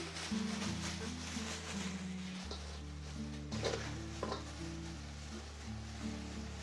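A vegetable salad with garlic and spices being stirred in a hot pan, the steady sizzle of frying running throughout with soft scraping and stirring scuffs and an occasional light clink of the pan.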